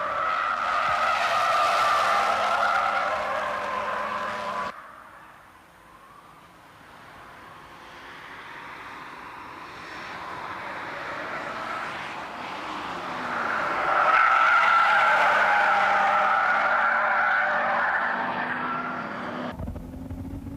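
Toyota Supra and Nissan 300ZX race cars on the final lap of a track battle, engines roaring loudly and continuously with a brief dip midway, then swelling again near the end.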